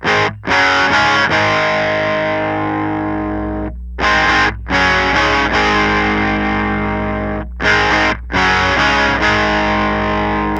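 A distorted electric guitar through a POD Go amp simulator with hum and ripple turned up plays sustained chords with brief gaps, a low steady hum running beneath.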